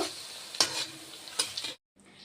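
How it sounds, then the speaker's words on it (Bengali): An egg frying in a pan, a faint crackling sizzle with a few sharper spatters and stirring scrapes, cutting to silence briefly before resuming. "দেখেন এটা ডিমটা ভাজা হয়ে গেল"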